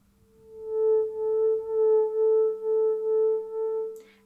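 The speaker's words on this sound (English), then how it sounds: "Separate sounds would sound like this," A theremin plays a row of detached notes on one steady pitch, about seven short pulses whose volume rises and dips in a regular rhythm, heard alone.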